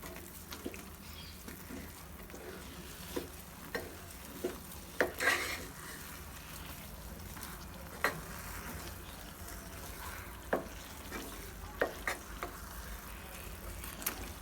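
A spoon scrapes and stirs carrot kesari with sugar and ghee in a pan, soft steady shuffling with a light sizzle and occasional sharper taps against the pan, close and quiet.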